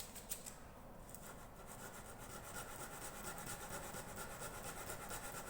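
Well-used 80 grit sandpaper rubs steadily across wood on a mountain dulcimer build, a quiet continuous scratchy rasp with faint repeated strokes, close and alone.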